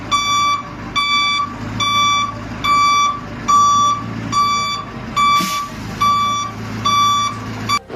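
A dump truck delivering chopped firewood to a village woodshed gives off loud, evenly spaced reversing beeps, about one tone every 0.6 seconds, over low engine rumble.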